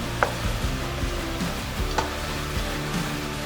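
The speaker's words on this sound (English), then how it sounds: "Stir." Meat and onions stirred in a frying pan, a steady close sizzle under intermittent scraping and clacking strokes of the utensil, with no talking.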